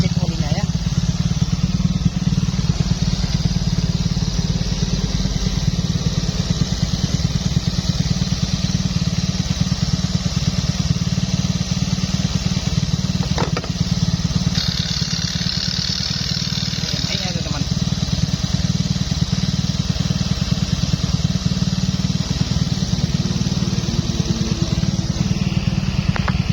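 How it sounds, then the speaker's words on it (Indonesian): Yamaha Fario 125 motorcycle engine idling smoothly and steadily after an engine rebuild, a continuous close, even hum running throughout while someone talks over it. "Nah, ini untuk suara mesinnya sangat lembut sekali ya teman-teman."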